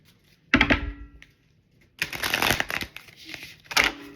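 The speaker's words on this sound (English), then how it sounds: "We're going to really shuffle this well." A deck of tarot cards gets shuffled in three quick bursts of riffling and flapping, with short quiet gaps between, close and alone.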